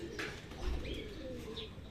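A racing pigeon arrives during a training race in Cabanatuan, Nueva Ecija, with soft low coos and a few faint chirps, quiet and close against light background noise.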